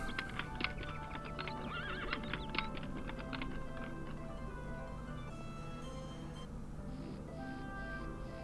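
A horse in the Daggerfall Unity video game whinnies clearly while hooves clip-clop, joined by quick keyboard typing, all fairly quiet and without speech.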